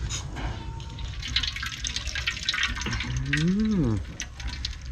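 Fish being washed by hand in water, close splashing and dripping with sloshing liquid, while a voice speaks briefly near the end.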